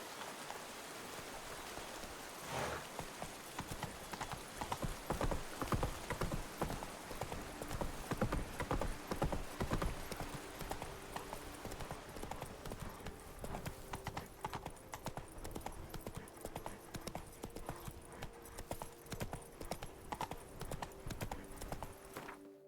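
Rapid, rhythmic hoofbeats of the horse Roach galloping in The Witcher 3, steady and close throughout, with a soft rain-like wash behind the clatter.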